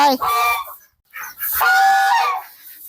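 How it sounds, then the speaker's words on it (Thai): Muscovy ducks, some of them crested, on a farm give two bursts of harsh, hoarse honking calls from close by, the second burst longer than the first, with a brief gap of quiet between them. "นี่คือฝูงเป็ดเมาหลาดของเรานะคะ"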